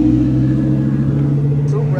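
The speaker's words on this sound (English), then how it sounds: "We got us an R8 pulling in" An Audi R8 sports car pulls into a cars and coffee meet, its engine giving a loud, close, steady rumble with a low drone that holds throughout. Someone talks over it.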